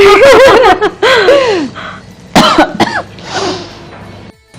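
Harsh, repeated coughing breaks out near the pot as pungent fumes rise from a tempering of curry leaves for a chicken curry, loud and close, coming in several fits with short pauses between.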